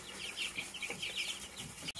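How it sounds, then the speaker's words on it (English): Meat chickens and egg-laying hens cluck and chatter softly in a coop, a busy continuous murmur of overlapping calls with one sharp click near the end. "So now you can compare and contrast between the meat birds and the egg layers here."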